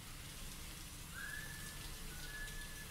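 Steady rain falls in the video game Still Wakes The Deep, a broad even wash of drops that holds throughout, with a faint thin whistling tone rising over it partway through.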